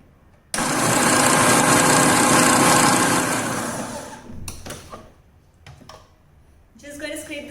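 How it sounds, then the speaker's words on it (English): A kitchen blender whirs loudly for about four seconds, pureeing basil and baby spinach for pesto, then winds down, followed by a few short clatters and quieter noises. "ready to blend?"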